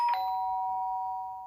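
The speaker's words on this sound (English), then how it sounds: "did I hear the doorbell?" Doorbell in the video game Danganronpa: Trigger Happy Havoc, a single clean electronic chime struck once and left to ring in a pure sustained tone that slowly fades, alone without talk.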